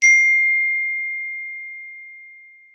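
A phone gives a single clear notification ding: a sharp bright strike that rings out as a pure tone and slowly fades away. No other sound is present.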